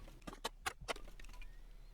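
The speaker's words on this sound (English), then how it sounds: "I just heard a horse." A quick series of soft, hollow hoof clops of a horse in the video game SCUM, a few sharp beats then lighter patter, fairly faint and with no talking.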